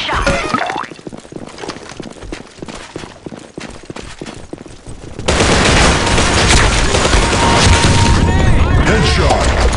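Video game gunfire comes in rapid bursts and booms, dense and loud, growing into a sustained barrage with other effects layered in, and a voice speaks over it.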